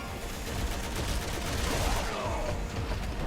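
Dense, sustained gunfire from Resident Evil 6, a loud, continuous barrage of shots with no clear gaps across the whole stretch.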